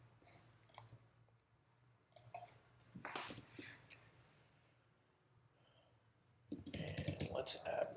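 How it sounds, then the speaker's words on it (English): Keys on a computer keyboard click in scattered short bursts, quiet and close, with a denser flurry of typing near the end and faint room noise between. "I'll just have to type it."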